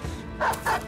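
A dog barks in the video game Battle Brothers, two short, close barks in quick succession over a low game background.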